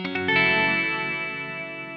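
Guitar tone through a Walrus Audio Slötvå multi-textural reverb pedal set to sine-wave modulation: a sustained chord with a wobbly, pitch-wavering shimmer, ringing out alone and slowly fading over two seconds.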